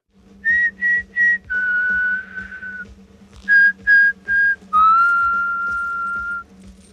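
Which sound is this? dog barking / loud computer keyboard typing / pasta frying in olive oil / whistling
whistling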